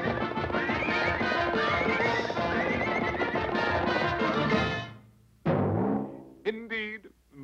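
A horse whinnies loudly and repeatedly over dense, continuous sound, then after a brief pause gives a few more shrill, wavering neighs.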